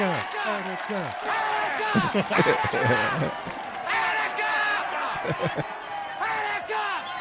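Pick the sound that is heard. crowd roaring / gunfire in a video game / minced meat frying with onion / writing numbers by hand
crowd roaring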